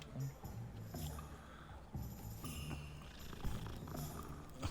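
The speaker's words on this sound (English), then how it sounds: "Oh, kitty cat." Cat purring in the video game Hogwarts Legacy, a soft continuous rumbling purr, close and quiet, with faint game ambience.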